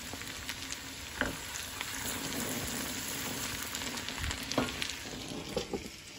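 Cumin seeds crackle and sizzle in hot ghee for a moong dal tadka, a steady close frying hiss with a few sharp pops and light spoon stirs scattered through.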